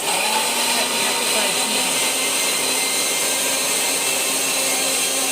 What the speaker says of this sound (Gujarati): અવાજ આવે મિક્સર